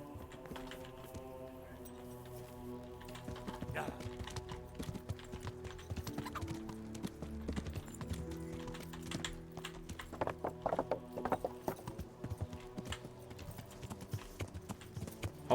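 Horse hooves clip-clopping in a video game, a continuous trotting patter heard alongside game music and sound effects, with no talking.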